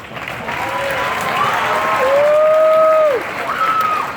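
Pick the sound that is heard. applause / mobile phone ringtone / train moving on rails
applause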